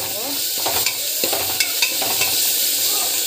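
Chopped tomatoes sauté in a hot pan with oil, sizzling steadily throughout while a utensil scrapes and stirs with brief clacks, close and loud.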